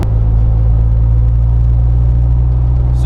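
A Jeep JK Wrangler on 33-inch Radar Renegade tires cruising steadily, with a loud, constant low road rumble and tire drone filling the whole stretch and no voices.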